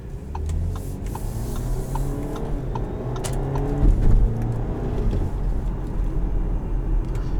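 A 2018 Audi Q5 Premium Plus accelerates under paddle-shifted downshifts, a steady engine drone with rising pitch sweeps and a blip around midway, heard from inside the cabin.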